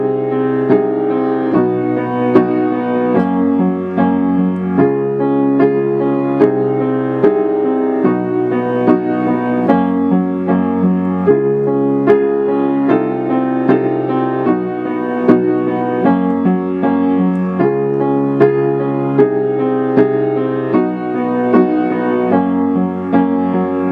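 Solo piano playing a tune: a continuous flowing arrangement with repeating bass patterns under melody, loud and close throughout, without speech.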